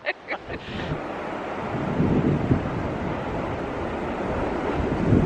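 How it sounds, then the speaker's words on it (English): Strong wind roars across an exposed stretch of the Cornish coast during a storm, a steady loud buffeting rush over the mic with surf beneath it, preceded by a few brief knocks at the start. "Obviously there's quite a bit of a wind coming in."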